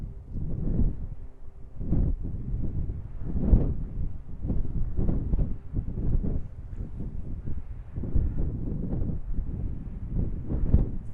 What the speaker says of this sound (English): it's getting super windy today